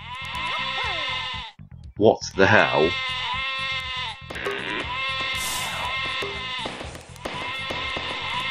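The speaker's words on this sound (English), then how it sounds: "I think there's sheep on this level as well." Cartoonish sheep bleats sound in the Lemmings Paintball video game amid game music, repeated cries standing out over the background, with a person speaking briefly.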